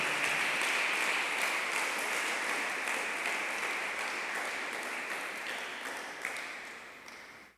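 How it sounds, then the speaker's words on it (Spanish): A church congregation applauds in a sustained wash of clapping that stays dense and even for several seconds, then gradually fades out. "Le damos un aplauso a ese Dios que nos guardó"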